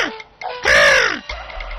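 One loud, harsh caw from a crow nearby in a cartoon, framed by shorter raspy calls before and after.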